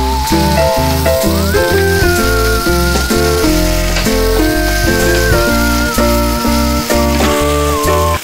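Bitter gourd with a little turmeric sautés in a pan with a continuous bright sizzle, heard under loud background music.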